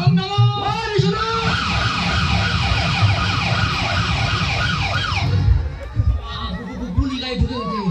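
A police vehicle siren effect wails in loud, rapidly repeating up-and-down sweeps over rumbling background noise for about five seconds, then cuts out as voices continue.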